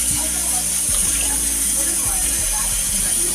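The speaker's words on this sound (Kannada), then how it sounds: "ಇದು ನೀರು ಕುದಿಯಾಕತ್ತೈತೆ ರೀ" Water boils in a cooking pot for rice for mutton dum biryani, with a continuous close-up bubbling, rolling hiss.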